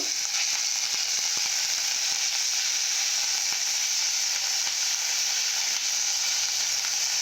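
Raw onion frying in a pan for a dosa chutney, a steady broadband sizzle with faint clicks of stirring throughout, close and continuous with no talk.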